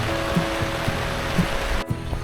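Heavy rain falls steadily on a tent at the Lam Takhong campsite in Khao Yai National Park, a dense continuous patter with occasional heavier drops and a faint steady hum underneath.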